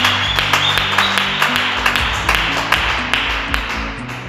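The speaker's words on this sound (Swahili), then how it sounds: "Tutachapa kwa mikono na vigelegele ndio tukufu." A church congregation claps in praise, a steady rhythmic beat of hand claps over a sustained low organ or music bed, moderately loud and continuous; ululation is not clearly distinct.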